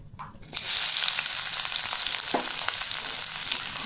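Eggs with onion and vegetables hit hot mustard oil in a kadai, a sudden burst of loud sizzling that then holds as a steady close frying crackle with a few sharper pops, no talk.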